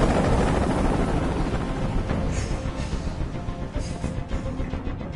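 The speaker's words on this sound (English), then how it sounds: "Tell that helicopter to get out of here." A video game helicopter hovers close by with a heavy, continuous thumping rotor roar that fills the whole stretch.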